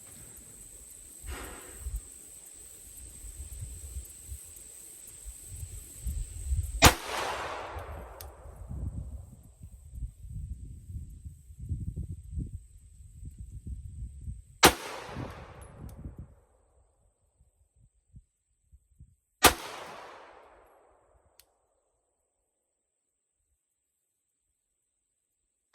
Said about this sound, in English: We're going to put 5 rounds in the middle at 25 yards.